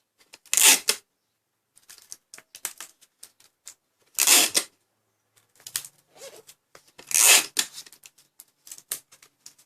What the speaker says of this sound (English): So we'll just put a ton of tape to cover it up.